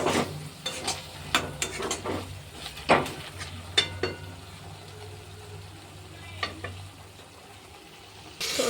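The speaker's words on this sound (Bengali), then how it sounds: "এবার দুটোকে একসাথে মিক্স করে নেড়ে নিচ্ছি। কিছুক্ষণ মতো এটাকে কষিয়ে নেওয়া হচ্ছে।" Chickpea curry mixture sautéing in a pan while being stirred, with a low background sizzle and a series of sharp utensil scrapes and clinks against the pan, close by and without talk.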